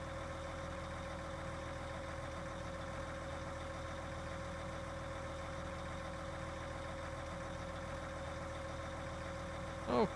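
A tractor engine idles in Farming Simulator 19, giving a steady, even mechanical drone that holds unchanged for about ten seconds with no talking.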